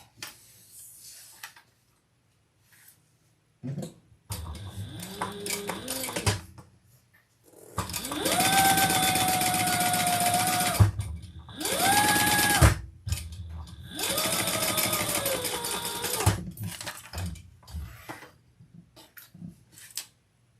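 A sewing machine basting fabric flat while making a custom order: three long bursts of fast mechanical stitching with a whirring motor tone, separated by short pauses and softer handling clicks, close up with no voices.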